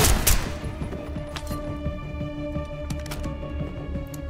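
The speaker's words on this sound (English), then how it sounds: "Shotgun." Shotgun blasts and surrounding gunfire in the video game Call of Duty Black Ops 6, a heavy boom at the start followed by scattered shots over a steady humming game soundscape.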